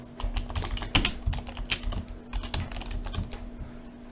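Fingers type on a computer keyboard at close range, a quick irregular run of clicky keystrokes with occasional louder taps, and no talking.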